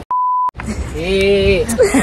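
A pure censor bleep tone sounds once, sharp and steady for about half a second, before a voice carries on talking.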